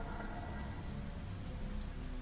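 Pouring rain falling steadily as a dense, even hiss, fairly quiet, with no voices.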